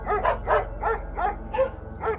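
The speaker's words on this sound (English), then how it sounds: "the silence suddenly changed to the barking and howling of all the local dogs" Several local dogs barking in a rapid, repeated rhythm, about six loud bursts close together in a row with no pauses, with no talking over them.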